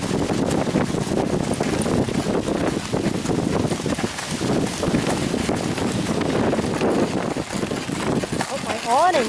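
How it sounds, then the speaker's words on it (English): Strong wind roars continuously into the microphone with heavy low rumbling buffets while driving in Acadia, and voices speak beneath it. "God, the wind."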